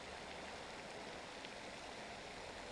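Water splashes continuously with a dense, crackling hiss like oil frying, a faint, even texture that holds steady throughout with no voices over it.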